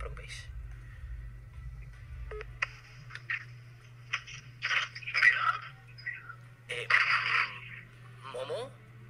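Telephone dialing tones and ringing from a call placed during a Minecraft livestream, sounding as short beeps and tone bursts mixed with voices talking over them at moderate loudness.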